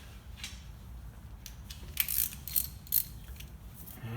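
A ratchet undoes 12mm bolts on the 1KD-FTV diesel engine of a Toyota Prado 120, giving close, quiet clicking strokes with a few sharper metallic ticks in the middle.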